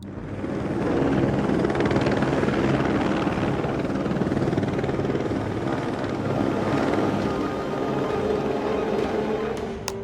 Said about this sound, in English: Footage from the Chernobyl disaster shows a Soviet helicopter flying near the reactor site